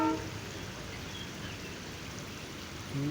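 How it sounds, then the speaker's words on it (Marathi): Water pours steadily down onto a road by a temple, a constant rushing wash heard close and unbroken throughout. "आणि पाणी पूर्ण असं खालती रस्त्यावर जातं."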